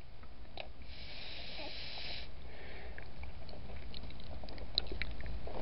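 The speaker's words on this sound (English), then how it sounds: "that sound of me breathing is me blowing the air out so I don't fog up my mask" A long, breathy exhale hisses close up, followed by fainter puffs of breath pushed out through a mask.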